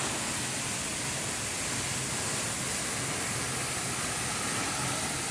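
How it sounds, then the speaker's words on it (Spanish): Misol Ha waterfall in Chiapas roars as a steady, dense broadband rush of falling water, loud and continuous throughout, with no voices over it. "conforme nos acercamos más a la cascada, más bajaditas de agua"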